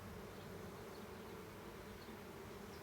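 Honeybees buzzing around an open hive during an inspection, a faint, steady, dense hum filling the whole moment with no voices.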